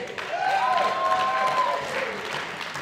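A crowd claps and applauds steadily for a few seconds, with scattered whistles rising above the dense clapping.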